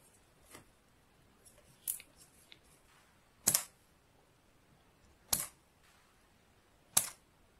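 Several sharp snips of scissors trimming the ends of plastic zip ties, spaced a second or two apart, close and crisp against quiet.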